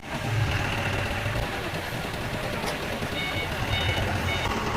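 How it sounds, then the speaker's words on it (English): A 5-ton forklift runs with a steady mid-pitched engine drone, close and continuous throughout, with faint high beeping tones over it in a loading area beside a welding machine. "you need a 5-ton forklift, like this"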